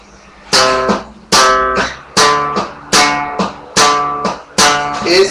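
Six sharp, bright bass notes popped with the index finger ring out alone in a steady rhythm, each one snapping percussively before decaying quickly.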